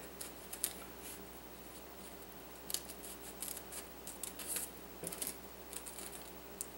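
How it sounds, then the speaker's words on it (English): Scissors make a few quiet snips through white paper while a square is cut for a magic trick, with soft crisp clicks scattered across the stretch against low room hum. "I'm going to make another cut, and then we're going to take out that center portion."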